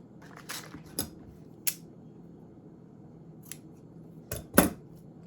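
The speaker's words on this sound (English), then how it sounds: "Let's trim these little tails." Scissors snip ribbon bow tails on a handmade Valentine's heart ornament, a handful of sharp close cuts spaced irregularly over a quiet room background.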